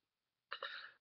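Several hard coughs burst out one after another from a person who has been coughing heavily for days, close and fairly loud, after a stretch of silence, with another strong cough starting at the very end.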